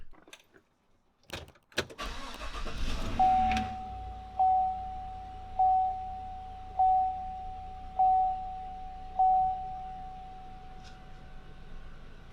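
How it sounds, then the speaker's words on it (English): A Tahoe's air suspension compressor runs with a steady mechanical whirring drone while the vehicle beeps at a regular rhythm over it, six tones in a row. "I can hear the compressor"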